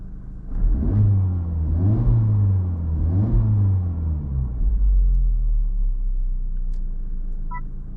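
A Honda Civic Type R FL5 in R mode revs in three rising, falling surges close by, then settles into a steady low rumble that holds to the end.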